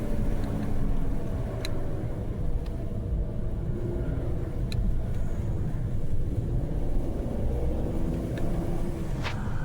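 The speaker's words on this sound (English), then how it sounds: "this tunnel driving is much better when it's a little bit more spirited" A car cruises through a tunnel with a steady, enclosed road rumble and engine hum, and occasional faint ticks and clicks from inside the cabin.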